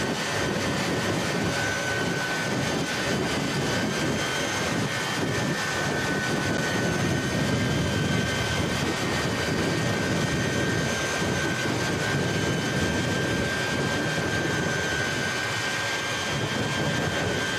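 Jet-powered vehicle throttling at night with both exhaust stacks on fire at a Christmas tree drag race event, a constant loud roaring whine with a steady high tone sustained through the whole stretch.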